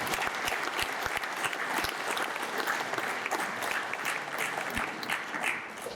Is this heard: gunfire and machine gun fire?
no